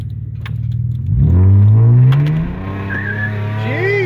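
A 1964½ Ford Mustang driving, its engine revving up with a rising, loud roar that peaks and holds before easing back, alone without talk.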